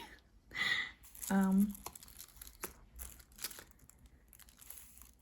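Pretty gift wrapping paper is handled for a junk journal cover, giving soft crinkling and rustling in bursts, with a voice heard faintly alongside.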